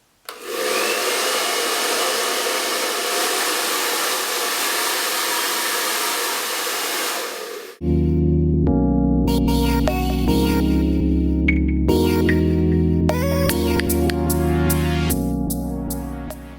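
A Babyliss Pro Volare Ferrari hair dryer blows with a steady, loud broadband rush for about seven seconds. Then it stops abruptly and is replaced by loud tonal music-like sound for the rest of the clip.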